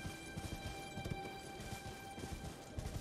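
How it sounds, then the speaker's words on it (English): Galloping horse hooves in the video game Elden Ring, a steady clip-clop rhythm running the whole time over a constant game soundscape with faint tonal hum. "Let's get my horse."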